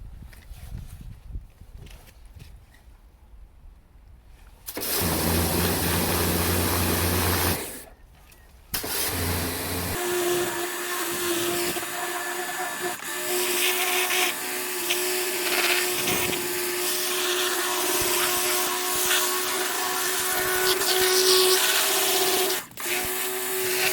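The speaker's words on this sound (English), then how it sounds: "Got my turbo lance attached to blast this ferrous stuff away." A pressure washer with a turbo lance blasts car paint to strip ferrous contamination. After a quiet start, it kicks in with a loud, steady roar and motor hum, pauses briefly, then runs on continuously.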